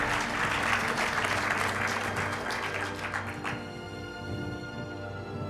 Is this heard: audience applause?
yes